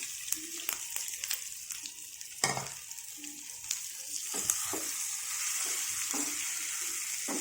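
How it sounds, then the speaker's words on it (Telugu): Stirring a tomato and toor dal chutney, a steady wet sizzling, scraping texture with a few sharper clinks of the spoon, close and continuous throughout. "పచ్చడి కలిపి చూపిస్తానండి."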